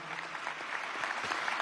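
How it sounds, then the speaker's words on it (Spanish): A crowd at a political congress plenary session applauds, a soft, steady wash of many hands clapping at a distance, continuous and fairly quiet, with no voice over it. "quiero que le demos un aplauso a Héctor como coordinador del Comité Promotor Nacional"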